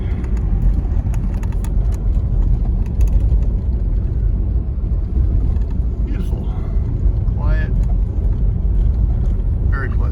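A 1946 Packard seven-passenger sedan cruises in overdrive, its engine giving a steady low rumble throughout with road noise. Someone talks over it from inside the car.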